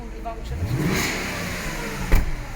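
A VW Touareg 4.2 V8 engine cranks, catches and revs up with a rising mid-pitched roar, then settles, with a short clunk near the end.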